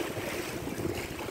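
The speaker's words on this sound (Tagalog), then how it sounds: "Lakas ng alon." Strong sea waves wash and roar at a fishport in General Santos, a steady broadband rush with wind buffeting the microphone and no voices.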